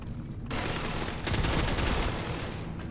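Rapid automatic gunfire from a gun in the space game Starfield, a dense sustained burst that swells louder midway and runs continuously for about three seconds with no talk over it.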